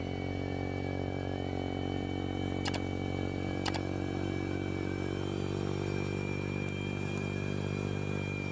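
A Ryobi 40V electric snow blower runs in a Canadian blizzard with a steady, loud motor whine and hum, broken by two brief clicks near the start.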